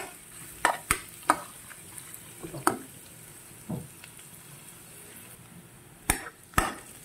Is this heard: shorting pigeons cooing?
no